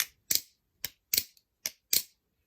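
Theone and Kraken clone butterfly knives being flipped, giving six sharp, faint metallic clacks in an uneven rhythm with silence between them.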